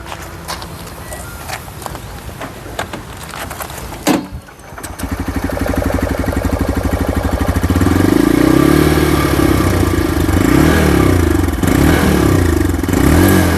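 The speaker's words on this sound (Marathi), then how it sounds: "आपण ऑडियन्सला गाडीचा जो साऊंड आहे आपल्या ह्याचा एक्झॉस्ट साऊंड, म्हणजे आपलं सायलेन्सरचा साऊंड, तो कसा एकदा ऐकूया" A TVS Raider 125 motorcycle starts, then its exhaust settles into a steady, close idle thrum that grows louder and holds, with faint clatter beforehand.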